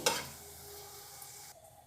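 Bori, dried lentil dumplings, dropped into hot oil in a pan: a sharp initial crackle and clink, then a softer sustained sizzle that fades and cuts off near the end.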